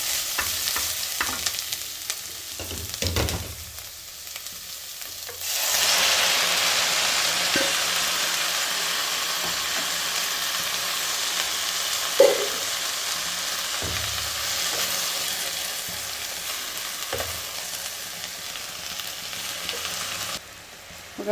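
Tomatoes tipped onto fried onions in a pan set off a sudden loud, steady sizzle that holds for many seconds, after a few stirring scrapes, with one sharp knock partway through.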